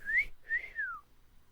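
Person whistles two short notes, the second sliding downward, clear and fairly quiet with nothing else around.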